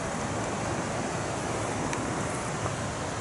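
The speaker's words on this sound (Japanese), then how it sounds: "うん、海に着きました。" Steady broadband wash of ocean surf on a beach in Palawan, Philippines, continuous and fairly loud with some wind noise on the microphone, no voices.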